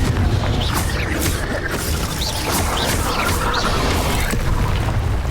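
Repeated Confringo blasting-spell explosions in Hogwarts Legacy, a series of sharp crackling bursts and booms over a continuous rumbling battle backdrop, loud and close.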